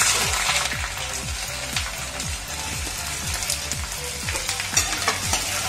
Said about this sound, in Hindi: थोड़ा सा तेल इसमें है और इसमें अब हम प्याज को डाल देंगे